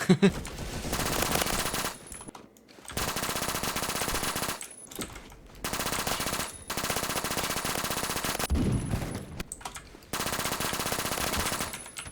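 Rapid automatic fire from a P90 in the Roblox game Phantom Forces, long sustained bursts separated by brief pauses, loud and dense throughout.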